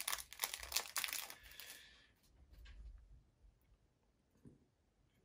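A small plastic bag holding a paper clip from a UGears wooden model kit is opened, with close crinkling and tearing rustles for about two seconds, then a few faint handling sounds.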